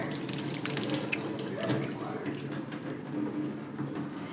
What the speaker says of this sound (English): you're going to wash your hands with soap and water